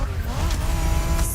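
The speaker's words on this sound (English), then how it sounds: "Are you familiar with the Honda you're driving?" Honda NSX engine and tyres in the racing game The Crew Motorfest, a loud continuous engine drone with brief tyre squeal, close and alone.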